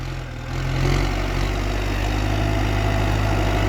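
A new Kubota M8808 tractor engine idling, a steady low diesel rumble with constant vibration, close and loud with no talk over it.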